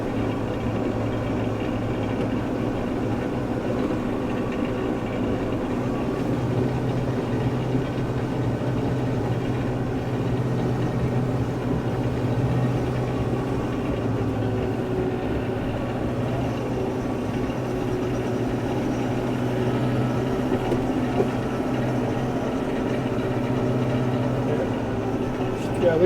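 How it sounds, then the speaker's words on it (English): A tractor engine runs steadily through a snow-blowing job on frozen ground, a continuous low rumble with a droning hum that holds level and close for the whole stretch, without clear breaks. "maneuvering the tractor here so that I"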